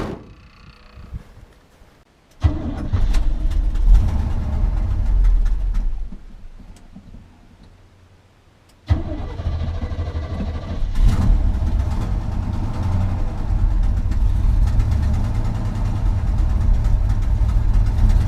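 A C30 shop truck with a big-block V8 and a leaking header gasket idles loudly, a steady low rumble with a ticking exhaust leak, after a brief quieter pause; the engine stops and restarts partway through.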